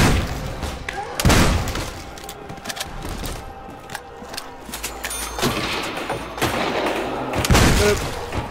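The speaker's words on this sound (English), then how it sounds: "I'm having fun with this double barrel shot" Double-barrel shotgun blasts in a wave-based video game, a few loud booming shots spaced apart, around 1 second, 5.5 seconds and 7.5 seconds, over continuous game background noise.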